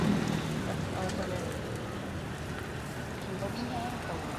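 Steady rain falls across a surface, a dense even hiss with scattered drops, constant throughout and fairly close.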